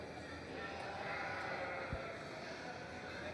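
A crossbred ewe at a 4-H and FFA fair breeding show gives a faint bleat over a steady background of crowd and hall noise.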